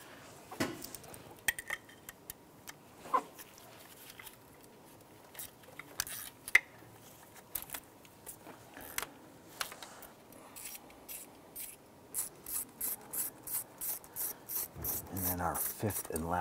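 A ratchet loosens the oil filter housing bolts on a 2006-2018 Jeep Wrangler JK, scattered clicks and scrapes giving way to a fast run of ratcheting clicks at the end.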